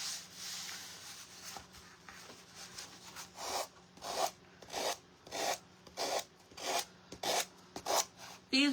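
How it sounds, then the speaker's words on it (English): Rhythmic back-and-forth scraping of sandpaper across a repurposed plywood sign, about a dozen evenly spaced strokes, close and fairly quiet, beginning after a few seconds of softer rubbing. "we're gonna sand it off"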